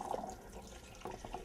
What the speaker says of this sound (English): I'm going to pour this, and of course there's some liquid in with the chickpeas.